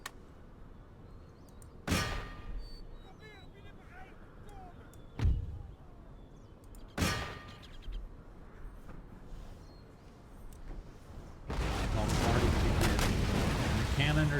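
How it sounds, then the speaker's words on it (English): Cannon bombardment against fortress walls in Empire Total War: several separate heavy booms with a few seconds between them, then a dense, sustained rumble of massed fire, while a voice talks at times in between. "let's get ourselves ready to start the bombardment right away on the walls"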